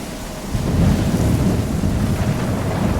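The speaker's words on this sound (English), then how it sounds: "I'm trapped in a storm?" Thunderstorm in the video game Life is Strange: a steady roar of heavy rain and low rumbling thunder swells in after half a second and holds loud and dense throughout, with no voices.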